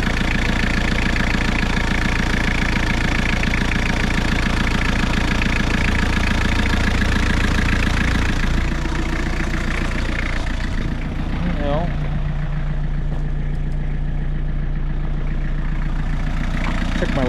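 An Isuzu diesel engine in a Suzuki Samurai idles steadily up close, a low rumbling drone with a faint rhythmic knock, with someone talking over it.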